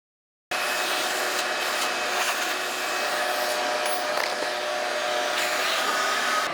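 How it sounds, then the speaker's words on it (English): A vacuum cleaner roars on abruptly after a moment of silence and runs steadily and loudly, a rattling, gritty undertone suggesting a bag of screws being sucked up into it. "I sucked up a bag of screws."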